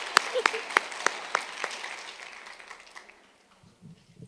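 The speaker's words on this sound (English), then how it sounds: "how about a round of applause for Michelle?" Applause at the Fort Worth Mayor's 2024 Neighborhood Awards, a few loud near claps over a crowd's patter that thins and fades away, with a voice starting to speak near the end.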